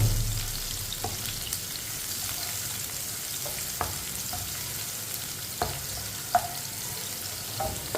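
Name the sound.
onions browning in pan, stirred with spoon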